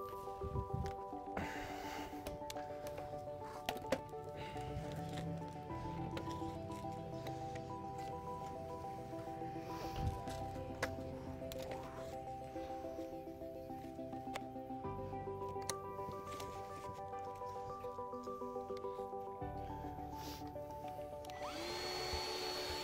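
A Milwaukee STS Max silica dust extractor runs at a steady whine with a constant tonal hum throughout, broken by occasional handling clatter and bumps nearby.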